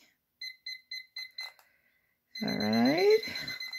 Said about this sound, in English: I think that I'm trying to set my timer here.